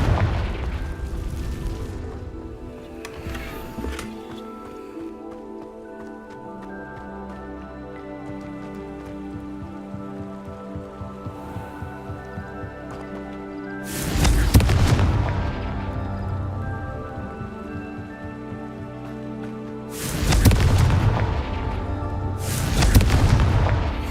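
In the game Hogwarts Legacy, a Confringo spell goes off as a booming fiery explosion, followed by two more heavy blasts spaced a few seconds apart. All are loud and close, with a game music bed underneath.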